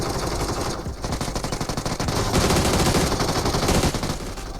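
Rapid automatic gunfire in the video game PUBG Mobile, loud dense bursts of shots rattling almost continuously with a short dip partway through.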